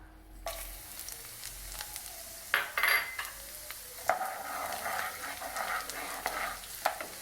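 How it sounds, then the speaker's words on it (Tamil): Vadavam dropped into hot cold-pressed sesame oil sizzles and crackles up close, with stirring scrapes and occasional utensil knocks over the steady frying hiss. "இப்போ இந்த வடவத்தை எண்ணெய் கூட சேர்த்துக்குவோம்"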